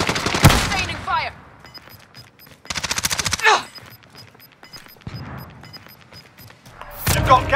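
Bursts of automatic gunfire in Call of Duty: Modern Warfare come in loud, rapid volleys separated by quieter gaps, with game radio chatter in between.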